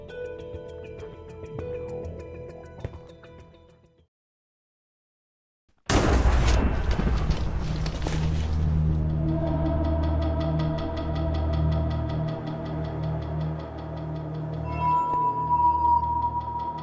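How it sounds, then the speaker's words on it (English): Lightning strikes in the video game Minecraft with a sudden loud crackling crash after a few seconds of quiet, then a rolling thunder rumble that sustains and swells, preceded by faint ambient game sounds. "How the hell did lightning strike after the storm?"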